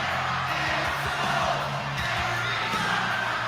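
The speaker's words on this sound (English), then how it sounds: "Crowd is going crazy." Packed wrestling arena crowd roaring and cheering for Cody Rhodes, a dense, loud wall of voices with whoops rising above the constant din.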